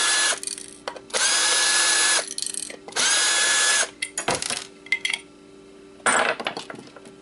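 Power drill unscrewing a magnet, whirring in three sustained bursts of about a second each, interspersed with clinks and rattles of metal parts being handled close by.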